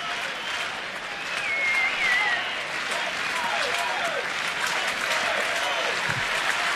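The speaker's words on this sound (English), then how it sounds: "Crowd on their feet here at Camden Yards, cheering on Jim Johnson." A crowd at Camden Yards applauds and cheers steadily during a Toronto–Baltimore baseball game in the ninth inning, a broad sustained roar with faint whistles in the mix.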